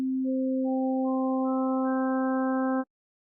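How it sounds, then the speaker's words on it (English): A pure steady tone with its harmonics added one at a time above the fundamental, building into a richer sustained tone over a few seconds before cutting off cleanly into silence, with no talk. "Here's what a harmonic tone sounds like if we break it up into its different harmonics."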